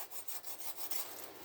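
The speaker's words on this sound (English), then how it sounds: "go around here and kind of trim off this excess tissue here" A knife trims rotten tissue from a 42-year-old mammillaria hahniana cactus, giving close, dense rasping and scraping strokes in quick succession over a short stretch, with no talk.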